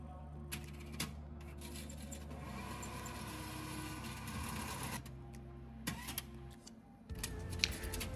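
An FNB ATM drawing in deposited cash notes, a steady mechanical whir and rattle with clicks and shuffling as the notes are fed through, close and alone.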